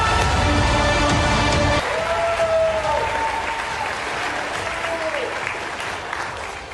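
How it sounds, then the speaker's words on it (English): An audience honours the Artemis III prime crew with a burst of dense applause that cuts off after about two seconds. A softer tonal hum and a fainter crowd wash follow. "let's give it one more round of applause for your Artemis III prime crew"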